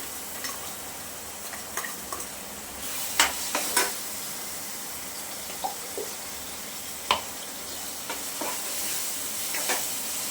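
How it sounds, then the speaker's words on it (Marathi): Masala paste for a Konkani-style chickpea curry frying in oil, a steady sizzle with scattered scraping stirs of a spoon in the pan, close and alone without talk. "आपण वाटण छान असं परतून घेणार आहोत तेल सुटेपर्यंत व्यवस्थित"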